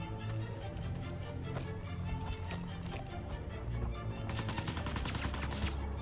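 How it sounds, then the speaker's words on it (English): Distant, fairly faint gunfire crackles through the busy game mix of Mercenaries: Playground of Destruction, scattered shots thickening into a quicker burst near the end over constant background rumble. "you need to stop shooting at me"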